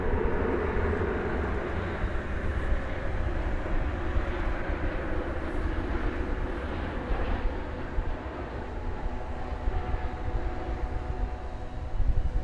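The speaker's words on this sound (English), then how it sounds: "We have a flight coming in from Santa Ana, California here." A plane on approach to DFW Airport, a flight in from Santa Ana, California, makes a broad, steady low rumble of engine noise that holds at an even level for the whole stretch, with no voices.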